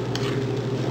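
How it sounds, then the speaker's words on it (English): Chicken fried rice being stirred in a pan with oil, a steady scraping and soft sizzle running continuously through the short moment, close and moderately loud with no talking. "So you want to stir everything together."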